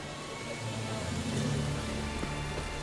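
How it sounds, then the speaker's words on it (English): Steady rain in the video game The Witcher 3, a dense continuous hiss of falling drops with low rumbling underneath, at an even loudness with no voices. "Rain again."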